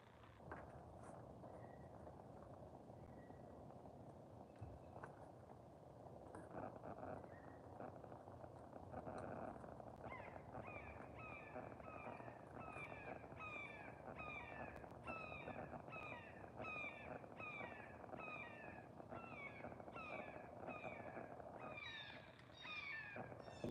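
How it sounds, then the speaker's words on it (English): Agitated birds call over and over in rapid, repeated bursts, growing busier as the clip goes on and sitting over a steady outdoor background rumble at a yard where a kiln is being bricked up. "Unhappy birds today, my oh my."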